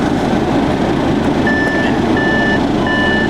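A backup beeper sounds on a Toyota Supra as it is put into reverse: three steady high-pitched beeps in even rhythm, each roughly half a second long, over a loud, constant engine and vehicle rumble.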